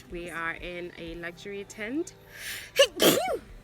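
A woman in a luxury safari tent lets out one sharp sneeze near the end, close and loud, following a stretch of nearby speech.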